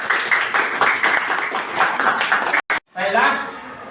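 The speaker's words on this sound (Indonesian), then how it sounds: "tepuk tangan buat kita semuanya" Classroom of students applauding during an Islamic studies lesson, dense clapping at fairly loud level mixed with voices, briefly cutting out before a person starts talking.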